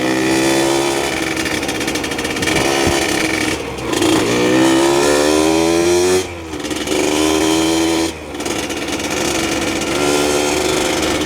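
A Yamaha DT100 two-stroke motorcycle engine idles with a buzzy, rattly tone, revving up and dropping back a few times, loud and close.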